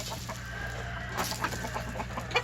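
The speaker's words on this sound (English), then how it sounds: "here I am now up here giving the chickens a little treat." Chickens cluck softly in a farmyard on a morning feeding of corn, a steady low murmur of hen chatter with occasional sharper calls, heard at moderate distance over a constant background hum.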